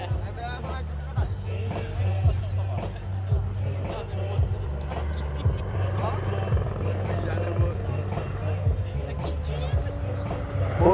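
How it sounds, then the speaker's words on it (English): Super Puma helicopter in an airshow flying display, pulling up at full speed and pushing over its nose, a steady rotor thrum and engine roar at moderate distance, with crowd babble throughout. "Pull up with full speed now and pushing then the helicopter over its nose."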